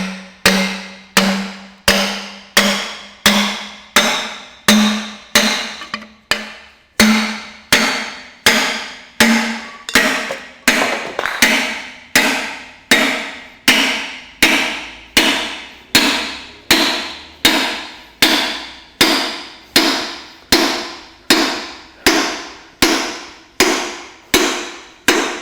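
A big hammer drives dry cylinder liners into a Massey Ferguson 65 tractor engine, striking in a steady rhythm of roughly two dozen sharp metallic blows at close range. Early strikes ring with a tone, and later ones sound duller as the liner tightens.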